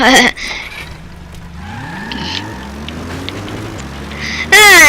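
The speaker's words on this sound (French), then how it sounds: "Alors on va prendre une voiture, voilà, on va faire le tour." An in-game car in Metal Gear Solid V drives off, its engine pitch stepping upward through gear changes at moderate volume, with brief bursts of game sound effects at the start and end.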